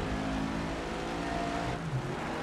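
In GRID Legends, race cars overtake on the outside, and steady, loud engine drone and revving fill the clip. Another car pitches past near the end, with no talk.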